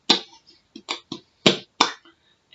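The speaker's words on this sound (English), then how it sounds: "Have you tried patting your cheeks?" Hands pat the cheeks in a run of short, hollow slaps, close and sharp, coming in an irregular quick rhythm with brief silences between.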